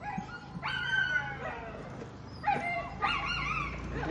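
Dogs whimper and yip in a string of high, wavering cries that come in short bursts, close and fairly loud, with no speech.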